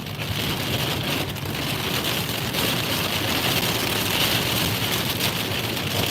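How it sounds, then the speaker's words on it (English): Pea-sized hail pelts a moving car in a dense, steady hiss of rapid small impacts against the body and glass, loud and continuous with road and engine rumble beneath, during a tornado warning. "Oh, we're getting hail here. Little pea hail."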